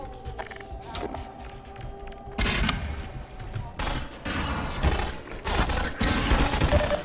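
In Half-Life 2, a thrown grenade bursts with a loud blast, followed by close, repeated bursts of gunfire and clattering impacts layered over game background noise.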